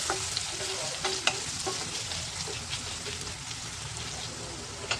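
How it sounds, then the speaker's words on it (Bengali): Onion and garlic fry noisily in a pan, a dense close sizzle with repeated sharp clicks and scrapes from stirring, and no one talks. "এবারে পেঁয়াজ রসুন দিয়ে আমি এটাকে ভালো করে বেশ যতক্ষণ না একটা লাল লাল ভাজা মতো হচ্ছে"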